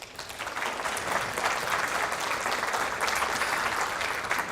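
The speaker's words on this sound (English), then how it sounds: "Give him a round of applause." An audience at a live psychic-medium stage show breaks into sustained, fairly loud applause that stays full and even from start to finish, with no talking on top.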